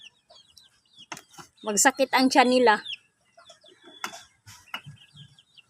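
Backyard chickens cluck in short bursts, one louder run of clucks standing out amid sparse scratching and faint background noise, with a person speaking briefly nearby.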